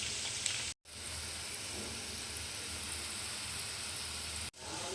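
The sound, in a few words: onions deep-frying in hot oil for biryani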